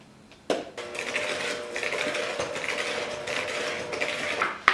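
Electric mixer running on low through blondie batter, giving a steady close whirring hum with rhythmic beater clatter after a brief start-up, and no voices.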